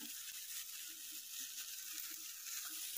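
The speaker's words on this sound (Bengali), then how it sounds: "এবার টমেটো কুচিটা দিয়ে দিলাম" Chopped tomato added to hot oil for a spicy dish, giving a steady bright hiss of frying with faint ticking, continuous and moderately quiet.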